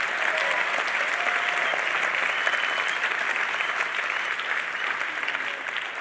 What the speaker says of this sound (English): A big round of applause for Cape Town,